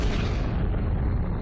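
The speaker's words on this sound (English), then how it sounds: "A massive but short-lived star exploded as a supernova." A deep, rumbling boom stands in for a supernova explosion of a massive short-lived star, a loud continuous low roar filling the whole moment without a distinct onset.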